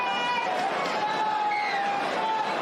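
Crowd at a rugby league grand final at TRL Stadium, a broad distant wash of cheering and roaring from the stands, continuous and fairly soft beneath a commentator's voice.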